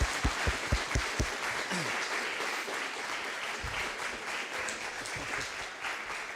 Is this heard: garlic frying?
no